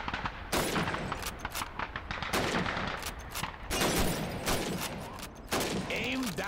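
Rifles fire at a shooting range during Red Army training in Call of Duty 2, loud rapid bursts of gunshots crackling in quick succession, with voices speaking between the volleys.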